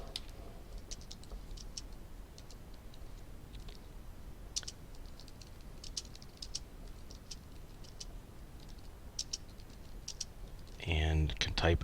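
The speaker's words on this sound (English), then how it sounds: "And can type a message." Light, scattered keystrokes on a computer keyboard as a message is typed in Google Assignments, quiet irregular clicks over a low room hum, ending with a brief louder burst of other sound.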